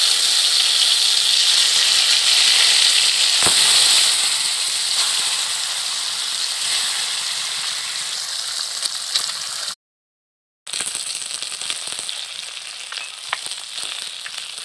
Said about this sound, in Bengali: তেল গরম হয়ে গেছে, মাছগুলোকে দিয়ে দেব তেলের মধ্যে।